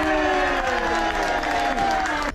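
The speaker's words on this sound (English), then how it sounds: "He won a free round of applause from the audience." Applause and cheering from an audience on the Emerald Princess cruise ship during a sea-day game show. A steady, dense clapping wash holds at full level throughout, with a tonal music-like hum underneath.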